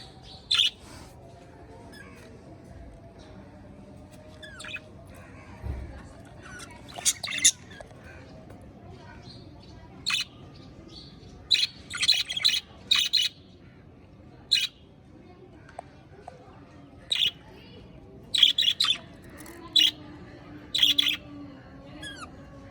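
Baby parrots let out repeated sharp, high squawks and chirps in short irregular bursts over a quiet background, fairly close.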